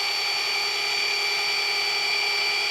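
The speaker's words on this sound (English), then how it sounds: "You wouldn't have the polisher not moving." A car polisher held still against painted bodywork runs with an even, high-pitched electric whir, steady and close throughout.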